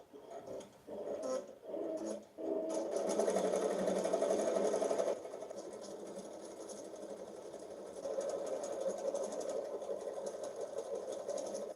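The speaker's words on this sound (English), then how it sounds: "So let's get embroidering." Embroidery machine stitching draft work, a fast continuous mechanical whirr after a few short starting bursts, fairly close and steady, dropping slightly in intensity midway then carrying on alone.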